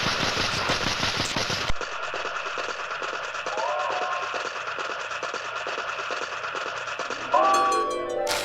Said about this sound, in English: Cutting back to Jenny, she's just playing with the train.